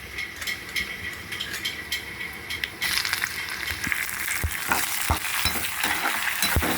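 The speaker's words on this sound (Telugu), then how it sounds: "ఇది ఫ్రై చేసేసుకోవాలి ఇలాగా ఆయిల్లో ఫ్రై" Onions and green chilies sizzle and crackle in hot oil, with a spoon stirring and scraping the pan in irregular taps, close and fairly quiet.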